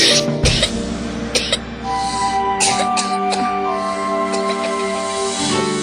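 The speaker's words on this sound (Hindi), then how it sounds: "अरे खांसी बुखार फिर से?" A person coughs in a Lifebuoy soap advertisement, with a burst of harsh coughs near the start followed by more coughing over a music bed.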